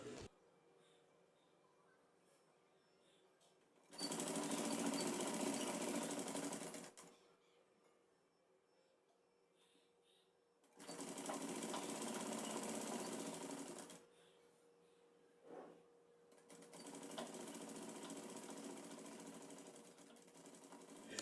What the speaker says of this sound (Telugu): చివర ఫోల్డ్ చేసుకొని ఈ విధంగా స్టిచ్ వేసుకోవాలి.